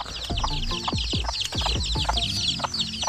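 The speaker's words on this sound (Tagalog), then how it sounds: "Ang daming sisiw ng aking Bisayang manok." Several chickens cluck close by in quick, overlapping bursts, with thin high chick peeps chirping continuously above them.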